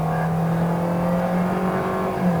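A Proton S70 accelerates hard during an acceleration test in Malaysia, its engine note rising steadily in pitch as it gains speed, loud and close, heard from inside the cabin.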